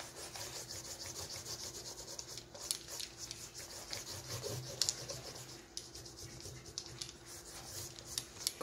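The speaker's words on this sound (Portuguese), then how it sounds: "Com o meu rolinho, vou espalhar" A paint roller spreads primer across a wooden surface, producing a steady, continuous rubbing and rolling texture with soft repeated strokes, fairly close and moderately loud, with no voices.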